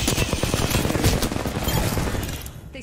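Gunfire in Apex Legends gameplay, dense rapid automatic shots rattling nearly continuously and loud, easing slightly toward the end.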